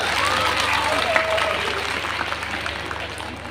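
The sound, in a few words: applause welcoming a political leader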